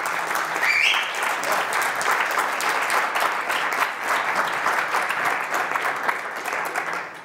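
Audience applause fills the room after a cryptocurrency conference talk in Manchester, a steady, dense clapping that holds at full strength for about seven seconds and fades slightly at the end.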